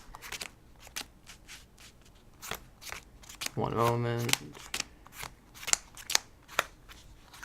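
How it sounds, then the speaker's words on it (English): Trading cards are pile shuffled, with a run of soft, irregular card taps and flicks, then a brief rippling shuffle, heard close alongside someone speaking. "I'll show you a practice hand, I guess, after I pile shuffle the deck."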